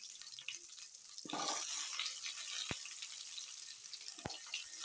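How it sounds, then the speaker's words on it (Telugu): Tomatoes dropped into hot oil in a pan for a chicken curry, giving a steady close frying sizzle with a louder burst as they go in and a couple of sharp clicks, no voices. "టమాటాలు వేసుకుందాం"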